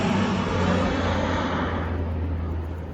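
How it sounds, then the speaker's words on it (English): A military aircraft flies low over Algonquin Park, a broad roaring engine rumble that stays loud and steady, then begins to fade as it passes overhead, with no talking. "I know the military does their training missions up here, low level flying over Algonquin Park"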